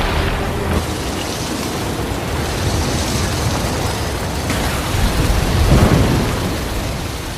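Steady heavy rain roars throughout, with low rumbling swells suggesting distant thunder, loud and continuous with no voices.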